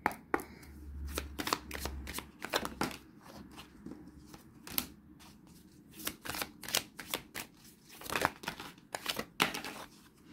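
Fortune-telling cards are shuffled and laid out on a table, with crisp repeated riffling and sharp slaps of cards set down in an irregular rhythm, close and fairly quiet with no talk.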